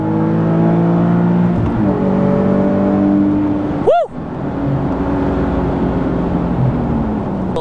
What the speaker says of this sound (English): And give you a little bit of revving.